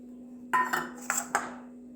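Fish fritter batter with raw onion and green chilli mixed in a metal bowl, four sharp clinks and scrapes of utensil against the vessel, close and distinct over a quiet background.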